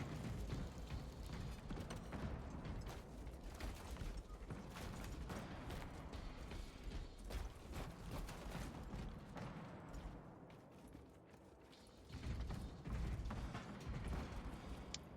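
Weapon reloading in Space Marines 2, a dense run of mechanical clanks, creaks and ratcheting over a loud, continuous game soundscape, with a brief dip near the end before the din swells back.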